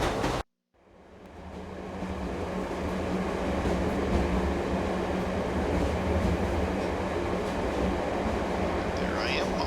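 A train in the video game Let It Die rumbles along in a steady, loud roar after a short cut to silence. The heavy rolling noise stays even throughout with a faint high whine near the end.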